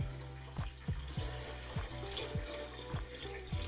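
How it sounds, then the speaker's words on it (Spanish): Water poured into a pressure cooker pot for a homemade still, a steady splashing stream with rhythmic gurgling pulses as the pot fills, close and alone. "Ponemos a calentar, introducimos el agua"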